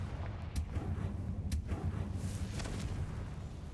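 A blasting spell explosion cast with Confringo in the video game Hogwarts Legacy: a few sharp bursts and low rumbling booms at moderate loudness, spaced over a few seconds.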